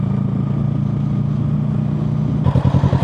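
A heavy motorcycle engine runs at a steady loud rumble while riding, then shifts to a pulsing, throbbing beat as the bike slows and turns.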